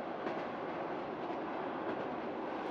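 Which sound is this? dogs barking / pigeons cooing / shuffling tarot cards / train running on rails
train running on rails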